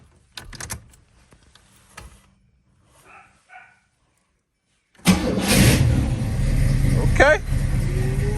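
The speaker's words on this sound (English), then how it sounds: "I'm gonna try to crank without hitting the gas either. See if it'll crank right up." An Oldsmobile Cutlass with new E3 spark plugs: a few faint, scattered noises over a quiet stretch, then the engine suddenly catches and fires into a loud, steady idle for the last few seconds.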